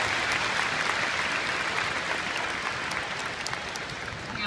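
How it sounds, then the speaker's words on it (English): Sustained applause from a crowd at a karate demonstration, steady and dense clapping throughout, tapering slightly toward the end. "Give them a round of applause."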